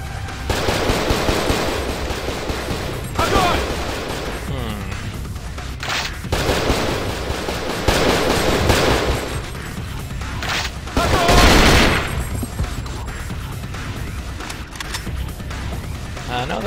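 Gunfire in the video game Cold Fear, with dense rattling bursts and booming shots that repeat throughout over a busy game soundscape, loud and close.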